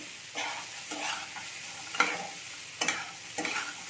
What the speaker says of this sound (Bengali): এটাকে আমি ভালো করে নেড়ে নিচ্ছি